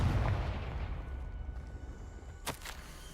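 A Confringo explosive spell in Hogwarts Legacy lands with a heavy boom that rolls off into a fading rumble, followed by a sharp crackling burst near the end.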